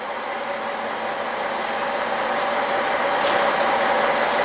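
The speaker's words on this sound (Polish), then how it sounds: "bo jedzie pociąg Flixtrain. Prowadzony Wektronem." A Flixtrain passenger train hauled by a Vectron electric locomotive passes along the tracks, giving a steady, broad rushing roar that grows slightly louder over a few seconds, with no talk.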